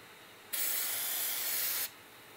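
DeOxit contact cleaner sprayed from an aerosol can in one steady hiss lasting just over a second, close and fairly loud against a quiet room.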